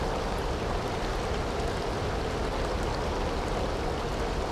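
Steady rain hisses across a tropical island in The Sims 2: Castaway, a dense even wash of falling drops heard alone at moderate volume.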